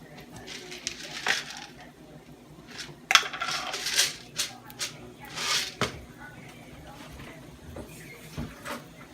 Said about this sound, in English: I'm gonna put 3 cloves of garlic in, and I'm gonna add some pimento seed, allspice, pimento